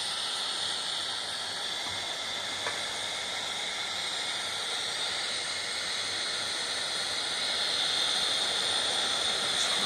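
Enders 9060D gas burner running at high gas, a steady close broadband roaring hiss that holds even and unbroken throughout, with no talk.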